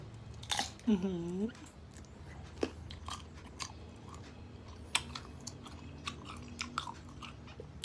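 Someone bites and chews crunchy sour young green mango with shrimp paste in a rural northeastern Thai setting. Crisp crunches come close at the start, then scattered quieter chewing, with a voice briefly heard.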